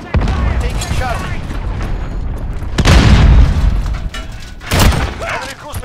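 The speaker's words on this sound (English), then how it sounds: "Allied cruise missile launched." Explosions from a cruise missile strike in Call of Duty: Modern Warfare Domination gameplay, with heavy deep booms and rumbling blasts around three and five seconds over ongoing battle noise and gunfire, loud and close.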